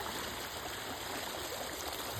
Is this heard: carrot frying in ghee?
no